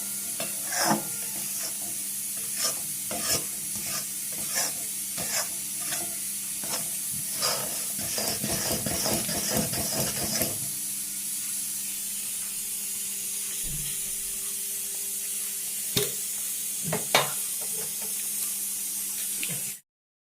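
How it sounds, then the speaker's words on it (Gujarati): Jaggery syrup is stirred steadily in a kadai for sesame chikki, with scraping, bubbling and ladle knocks close by. The bursts are dense at first, then thin out over a steady background hiss, and no one speaks. "આપણે એને સતત ચલાવતા રહેવાનું છે જેથી કરીને ગોળ છે એ કઢાઈમાં બેસી ન જાય"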